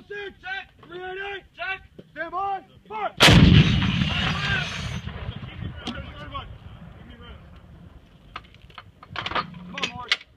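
An M119A2 howitzer fires a single loud, close artillery blast that booms and rolls off over several seconds. Shouted crew commands come before the shot, and scattered clatter follows it.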